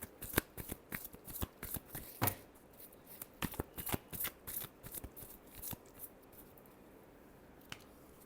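Tarot cards shuffled by hand in a quick run of crisp riffling flicks and slaps, close and moderately loud, thinning out toward the end.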